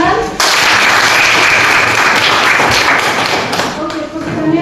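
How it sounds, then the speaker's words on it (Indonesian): A class of middle school students claps in a classroom: dense, loud applause that starts abruptly and carries on steadily for about four seconds, then thins slightly near the end. "Tepuk tangan."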